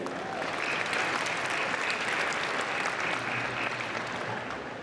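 Audience applause at the Slush 2023 startup event finals as investor judges are introduced, a broad, continuous wash of clapping from a large crowd, held at an even level throughout and heard somewhat distant.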